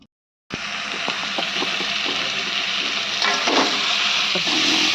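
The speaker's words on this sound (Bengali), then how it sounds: "আর এখানে একটু চিংড়ি মাছ ভাজছে" Shrimp frying in a pan at home, a dense, loud, steady sizzle that begins suddenly after a brief silence and keeps going with light stirring clicks and no talking.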